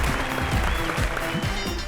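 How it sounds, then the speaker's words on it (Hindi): A studio audience at a comedy talk show claps for actor Shahid: steady, loud clapping throughout, with a rhythmic low thumping beat of music running underneath. "जोरदार तालियां इनके लिए।"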